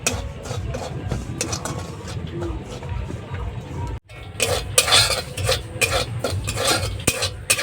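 Semolina is stirred and roasted in a pan with a spoon scraping and clinking against the metal in a steady repetitive rhythm, close up. A faint sizzle sits underneath, and there is a brief pause midway before the stirring resumes more vigorously.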